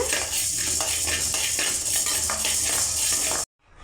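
Roasted urad dal being tipped from a pan into another vessel, a steady dense rattle and scraping of dry lentils against metal for over three seconds, close and fairly loud, then abrupt silence.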